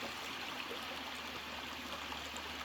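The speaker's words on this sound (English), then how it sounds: "This little stream of water running through the rocks, little tiny waterfalls." A small stream of water runs over rocks in little tiny waterfalls, giving a steady, close, continuous trickling rush with no voices.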